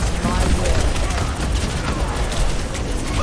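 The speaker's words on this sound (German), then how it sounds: "Die ist sehr mächtig explodiert." A chaotic, sustained barrage of blasts and gunfire from an explosion-filled fight in Overwatch 2, loud and dense with crackling bursts, and voices talking over it.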